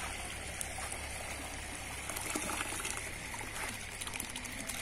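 Cold water poured over freshly cooked rice to strain it in a village kitchen, a steady faint trickling and gushing wash running throughout with scattered clinks.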